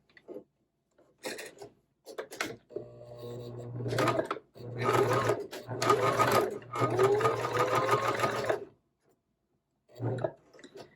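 A sewing machine back stitching the seam of a lined zipper pouch, running in several short bursts and one longer stretch with ticking pauses between, close and fairly quiet.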